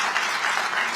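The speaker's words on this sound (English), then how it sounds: "that's worth applauding." Audience applause at a political gathering, a brief burst of dense crowd clapping that stays loud and even.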